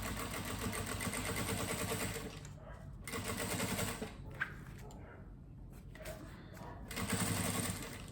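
A sewing machine runs almost continuously close by, stitching a seam on a small zippered necessaire, with a brief dip in the middle and a voice speaking faintly over the motor's hum.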